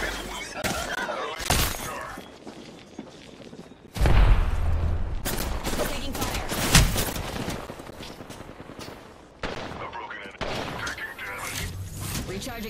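Gunfire in the video game Apex Legends: scattered loud cracks and a dense volley of shots with sharp, shattering impacts, mixed with game voices and effects.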